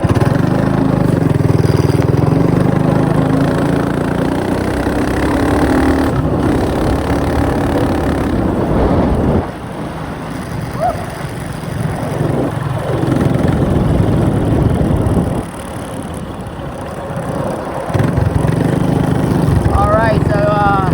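A modified mini bike engine runs loud and close while riding, revving and dropping as the throttle changes, with a person talking over the engine noise.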